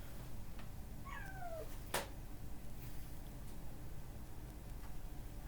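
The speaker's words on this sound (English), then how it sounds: "I don't know why the cat is meowing." A cat lets out a single short meow indoors, fairly faint against a constant background hum and followed by a sharp click.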